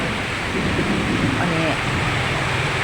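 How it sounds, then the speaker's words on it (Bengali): Heavy morning rain pours outside a house as a dense, steady hiss, with a voice murmuring faintly beneath the downpour. "বৃষ্টির শব্দ আপনারা নিশ্চয়ই শুনতে পাচ্ছেন"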